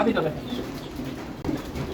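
Soft, low coos of Bezi pigeons repeat close by, with a voice speaking over them for much of the moment.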